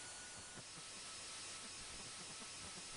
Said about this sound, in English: I love that grating sound effect for the water fountain.